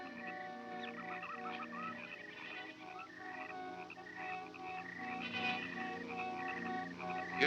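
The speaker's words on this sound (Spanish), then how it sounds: "ese sonido. Parece mezcla de pájaro con sapo." Eerie creature croaks blending bird-like chirps with toad calls fill a dark night scene in a sci-fi zombie film, continuous and layered, moderately loud with rising intensity toward the end.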